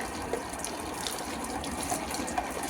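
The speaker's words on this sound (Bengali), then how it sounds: "এখন যেমন মাটিতেও জল দিচ্ছি" Water splashes onto garden soil in a steady, close trickle and gush, with small bubbling spatters. It is moderately quiet and has no talk.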